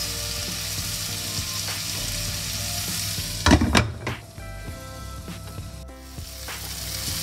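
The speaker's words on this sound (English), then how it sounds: "I am adding chopped tomato and cashew nuts. Saute it and we are going to cover it" Chopped tomato and cashew nuts sauté in a pan with a steady, even sizzle. A brief clatter of stirring rises midway before the frying hiss settles back.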